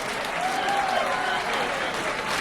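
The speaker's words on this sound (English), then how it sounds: "President Barack Obama deserves a round of applause for 8 years of" Crowd at a Hillary Clinton rally on Chicago's South Side applauds President Barack Obama, a dense, sustained wash of clapping with a voice briefly rising above it.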